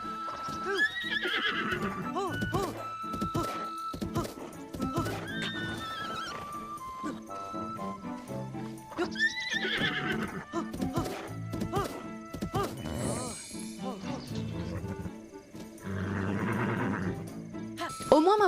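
A horse in The Legend of Zelda: Breath of the Wild, played in VR while being tamed, gives several loud, shrill whinnies between bursts of clopping hooves and thuds, with game effects around them.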